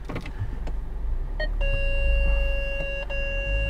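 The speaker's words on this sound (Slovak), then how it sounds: "A tohto pípkania by sme sa mohli zbaviť." A SsangYong Korando 1.5 turbo 4x4's electronic dashboard warning chime beeps steadily in a clear repeating tone over a low idling hum, with a short click before it starts.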